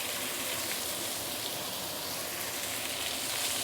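Thick prawns sizzle steadily in a lidded pan, a continuous even hiss of frying with no breaks, fairly quiet and close, with no voices.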